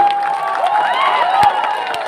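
A large crowd at a Tipra Motha political rally claps and cheers, a dense continuous roar of applause with shouts rising over it.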